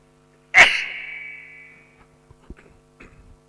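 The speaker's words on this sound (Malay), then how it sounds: "Kena hujan tadi tuan-tuan, bersin terus." A single loud, close sneeze from a person who has been caught in heavy rain, trailing off into a long fading tail, followed by a few faint small knocks over a low hum.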